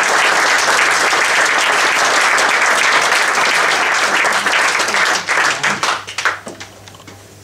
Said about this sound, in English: Philip Pearson, please let's give him a round of applause